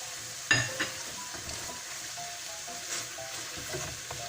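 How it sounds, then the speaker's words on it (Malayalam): Browned red onions sizzle softly in a pan with apple vinegar as a spoon stirs them, giving a steady frying hiss with a few light scrapes and clinks, close and with no voices. "ആപ്പിൾ വിനെഗർ ഒഴിച്ച് നല്ലതുപോലെ ഇളക്കണം."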